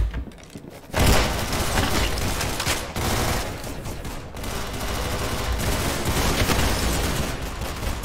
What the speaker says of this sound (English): I was kind of ignoring him shooting me.